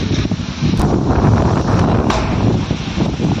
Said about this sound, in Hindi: देखिए दोस्तों किस तरह से हवा चल रही है।